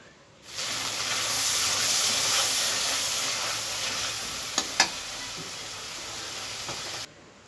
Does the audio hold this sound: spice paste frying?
yes